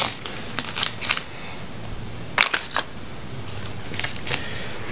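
Wires of an LS wiring harness are cut off to length, with several short snipping and crisp clicking bursts in small clusters over a faint steady background hum.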